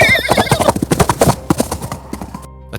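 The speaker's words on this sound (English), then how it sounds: "The horse screamed." A horse screams and neighs in a close, loud sound effect, with repeated rising whinnies over a scrambling clatter of hooves that thins toward the end.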